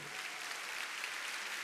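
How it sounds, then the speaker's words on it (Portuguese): Audience applause filling a church service, a dense, even wash of many hands clapping at once, steady and fairly soft with no voices standing out. "Vamos aplaudir o Senhor."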